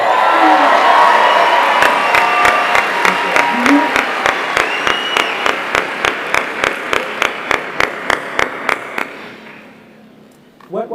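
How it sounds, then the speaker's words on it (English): An audience at a 2022 43North startup finals event breaks into loud, sustained applause and cheering with whoops, while rhythmic clapping beats stand out before the sound fades near the end. "Give her a round of applause."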